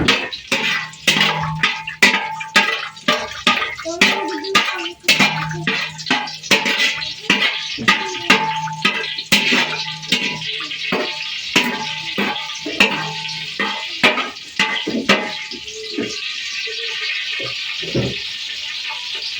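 Mahua frying in coconut oil in a pot with a little leftover water, crackling and sizzling hard in rapid irregular bursts, with steady stirring scrapes running throughout, close and loud.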